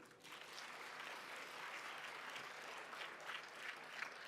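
Audience applause fills a colloquium marking 30 years of the Republic of South Africa, a steady, dense clapping that holds evenly throughout at moderate distance with no talk over it.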